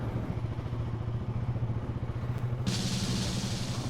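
A Hero Xpulse motorcycle is ridden outdoors, its engine pulsing in a steady, throbbing rhythm close by. Rushing wind noise joins in partway through.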